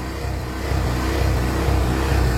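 Engine of a Barako 3 motorcycle with a bad misfire, running close by with a steady low drone that swells slightly partway through, with uneven pulsing. No one speaks.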